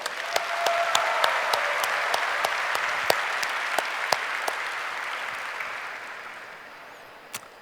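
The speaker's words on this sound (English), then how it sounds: "let's give them a warm applause" A crowd claps steadily, loud at first and then gradually fading, with a few sharper individual claps popping out near the end.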